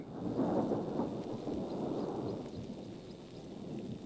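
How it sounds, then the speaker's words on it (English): Rain falls with a deep rolling rumble of thunder, strongest early and then fading into a steady low wash of rain, fairly distant and with no voices. "For the big event, the inevitable rain."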